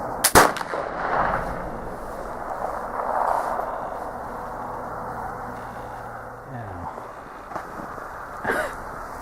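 A Traditions pellet flintlock rifle loaded with 777 powder fires one sharp, loud shot outdoors, followed by wind noise, faint breathing and a later fainter click.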